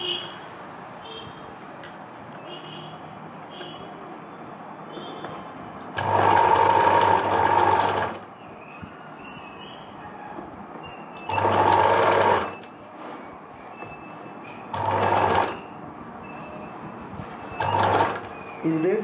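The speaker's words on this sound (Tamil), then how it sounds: "அந்த லைனிங்கில் ஓரமாக ஒரு அமுக்கு தையல்." A sewing machine stitches along the edge of the lining of an Anarkali churidar, running in four bursts of steady whirring, the first about two seconds long and the others shorter, close and clear between quieter pauses.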